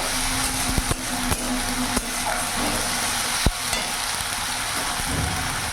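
Onion fried with ginger, garlic and chili paste in a pan, a steady close sizzle broken by sharp scraping clicks of stirring.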